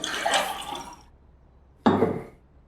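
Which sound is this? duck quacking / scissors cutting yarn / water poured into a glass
water poured into a glass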